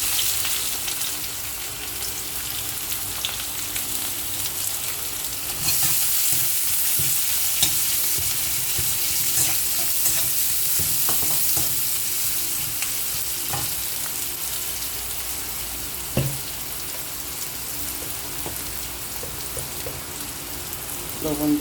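Two bay leaves and two pieces of cinnamon sizzling in hot oil make a continuous crackling hiss that swells partway through, with occasional clinks of a utensil against the pan, close up.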